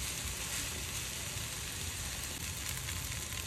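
Chicken pieces frying in a pan as the first step of a savoury quiche filling, giving a steady, dense sizzle that holds evenly throughout with no voices.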